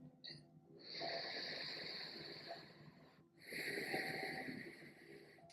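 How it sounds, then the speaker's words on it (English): Steady nasal breathing during an Ashtanga-inspired vinyasa yoga practice: two long, hissing breaths close to the listener, each lasting a couple of seconds with a short pause between, in an otherwise quiet room. "Now switch to nasal breathing."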